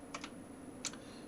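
A few quiet keystrokes on a mechanical keyboard fitted with Brown switches, heard as two soft, close taps followed by a brighter single press, with no speech.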